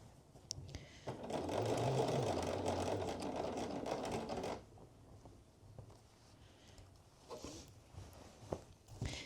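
A sewing machine stitches a seam on a Cashmerette Stanton hoodie, whirring in one steady run of about three and a half seconds, then stopping and leaving quiet handling noises and faint rustles.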